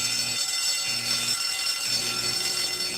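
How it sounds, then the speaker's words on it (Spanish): Fire alarm ringing in an animated Spanish-language scene, a loud continuous electronic ringing tone with a lower repeating pulsed pattern beneath it, steady and close. "Oye, es la alarma de incendio."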